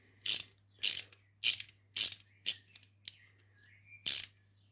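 Spanner tightening the slipper clutch nut on a WLToys 104001 RC car, seven sharp ratcheting clicks at a steady pace, close and distinct over a faint hum.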